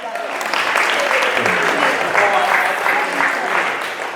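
Warm applause from a room of attendees at a networking event, steady clapping with a few voices calling out underneath as someone comes up to speak.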